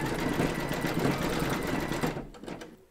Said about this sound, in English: Load your thread colour for the decorative stitching along this seam into your machine, and then stitch round number 10,